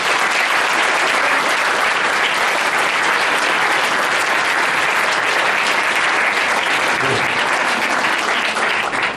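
Dense, sustained applause from a large audience fills the whole stretch, loud and steady without letup, with a faint murmur of voices mixed in.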